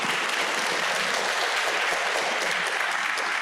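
An audience at a session on leadership and inclusivity applauds, a steady dense wash of clapping from many hands that fills the whole stretch without a pause.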